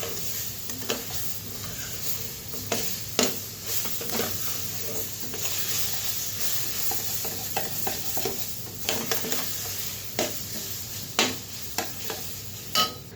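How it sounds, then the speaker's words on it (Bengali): Semolina ladoo mixture with ground mango being stirred in a pan, close scraping and tapping strokes at an uneven rhythm over a low continuous sizzle. "তো ভালোভাবে নাড়তে হবে।"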